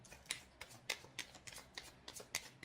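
Tarot cards are shuffled and handled close up, with a quick series of soft, crisp riffling slaps at an uneven rhythm in a quiet room and no talk.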